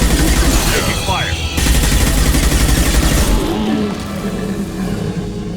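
Rapid bursts of sci-fi gunfire from a Mass Effect 2 firefight fill the scene, loud and continuous with dense overlapping shots, while voices talk over the combat.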